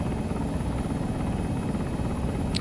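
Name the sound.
helicopter in the video game Arma 3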